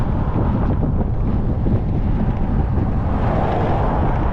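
Strong headwind roars steadily across a bicycle and rider on a flat road in Iceland, a loud, unbroken rush of wind buffeting the microphone for the whole stretch.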